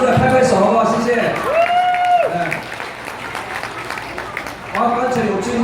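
Wedding banquet guests applaud in a burst of clapping that fades out, while a singer's voice rises over it, then another round of clapping starts near the end.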